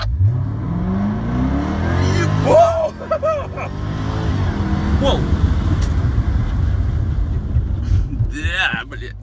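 A Jaguar F-Type sports car accelerating away on a ring track, its engine roaring loud and rising in pitch, then fading as it pulls off, with wind buffeting and someone speaking over it.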